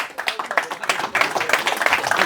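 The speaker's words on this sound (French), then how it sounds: "Vous applaudissez ça, bande de racistes." A comedy club audience in Paris claps during a stand-up set, a close, lively burst of individual hand claps that swells and rises in uneven, rhythmic bunches, with no talk over it.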